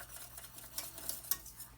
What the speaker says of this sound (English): Keep whisking slowly.